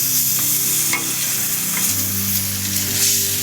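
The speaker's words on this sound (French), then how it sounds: "on va rajouter le lait de coco. On va déglacer dans un premier temps." Coconut milk poured into a hot pan to deglaze a satay sauce for bananas, sizzling steadily and loudly while a spoon stirs through it, close up, with no talking.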